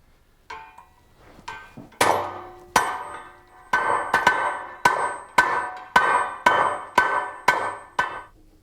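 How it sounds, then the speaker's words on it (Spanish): A hammer driving rivets into the hoops of a handmade wooden barrel, a dozen sharp ringing metallic blows in an accelerating, fairly regular rhythm, loud and close with bright resonant decay after each strike. "Ya puede poner el remache con la ayuda del martillo"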